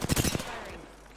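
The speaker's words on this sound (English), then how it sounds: "Firing." A quick burst of video game gunfire from a squad shooter: several loud, close shots in fast succession, then fading into a short ringing tail.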